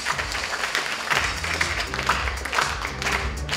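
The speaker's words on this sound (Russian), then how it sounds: "Громче, громче, громче аплодируем, друзья мои" Audience applause at an award ceremony, dense steady clapping throughout with some tapping and low hum of voices or music underneath, moderately loud and close.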